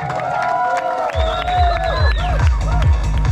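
The whole village crowd gives loud applause and cheering as the winning team, Vinayaka Friends Kumbra, is welcomed onto the stage at a trophy presentation ceremony, with whoops and a whistle-like tone over steady clapping.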